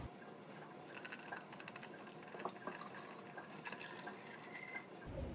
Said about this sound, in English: Then I add about 8 ounces of coffee.